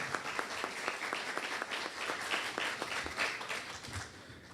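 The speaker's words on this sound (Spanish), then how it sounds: "por favor, le pido un fuerte aplauso por su participación" Audience at a disaster risk reduction forum in Peru applauding a guest speaker from the geophysical institute, with fairly quiet clapping in which individual claps stand out as a loose, rhythmic patter.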